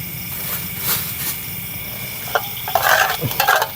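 Mie goreng noodles being stir-fried in a pan at a solo campsite, with a soft steady sizzle and brief scraping and clinking of a utensil against the pan growing louder toward the end, no talking.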